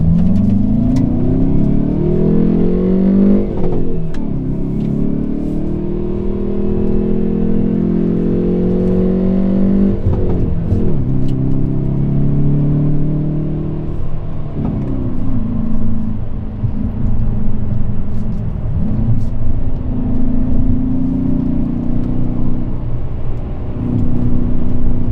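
A 2020 Hyundai Veloster N pulls hard along the Angeles Crest canyon highway, its engine droning and rising through the gears with clear upshift breaks, heard loud and steady from inside the car.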